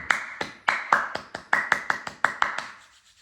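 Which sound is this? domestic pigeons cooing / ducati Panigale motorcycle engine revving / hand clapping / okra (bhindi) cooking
hand clapping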